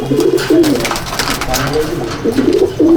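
Pigeons in a loft coo in repeated rolling phrases, loud and close, with a break in the middle before the cooing picks up again against a steady noisy background.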